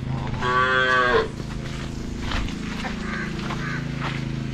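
A bull tied up inside a barn on a traditional Konkan rice farm lets out one loud, close moo lasting under a second. It is followed by quieter barn ambience and faint voices in the background.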